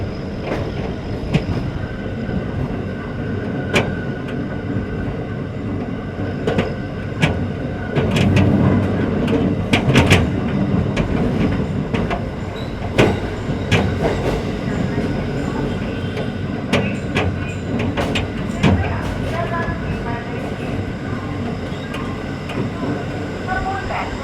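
A train passes through Sodepur railway station at night in a long, loud, close stretch of rolling rumble with repeated clickety-clack wheel knocks and some squeals, and a voice talks over the noise.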